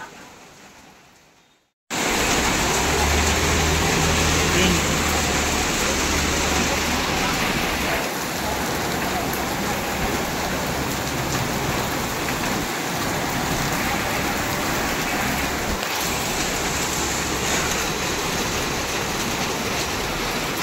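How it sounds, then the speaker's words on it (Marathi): After a brief quiet start, a loud, dense downpour of heavy monsoon rain in Virar roars steadily and close by for the rest of the clip. "खूप म्हणजे खूप तुफान पाऊस आहे"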